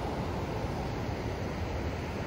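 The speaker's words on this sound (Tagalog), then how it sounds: "Ang lalakas ng alon, pero hindi tumatama dito sa buhangin." Strong sea waves on a Pangasinan coast make a steady, low rushing wash with wind buffeting the microphone, continuous and fairly faint, with no voices.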